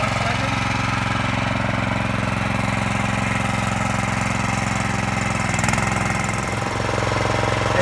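An excavator engine runs steadily at idle, a loud close diesel drone with a constant low hum and no break, while an auger is being attached to the machine.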